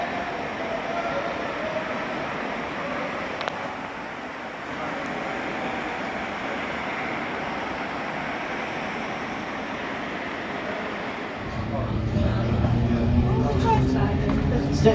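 A 1938 Stock London Underground train on the Metropolitan line rumbles and rattles steadily, heard from inside the carriage, with the noise swelling louder and rougher near the end.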